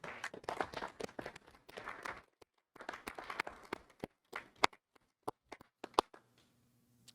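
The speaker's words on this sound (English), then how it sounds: "Let's give them a round of applause." A few people clap sparsely at a school board meeting: scattered, uneven claps that thin out into isolated single claps, with near-silence and a faint hum at the end.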